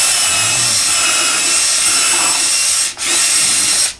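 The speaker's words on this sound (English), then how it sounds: "Drilling a pilot hole for a lag makes the lag a much better grip" A power drill bores a pilot hole into wood for a lag screw. It gives a loud, steady whining grind that briefly drops out once near the end, then resumes and cuts off, with no voices.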